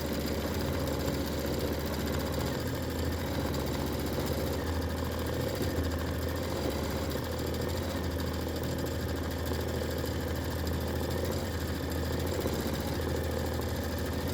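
Steady machine hum of an embroidery machine stitching 60-weight polyester thread, a continuous low drone with mechanical buzz that runs evenly throughout with no pauses or voices.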